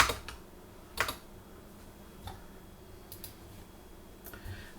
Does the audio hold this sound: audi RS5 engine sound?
no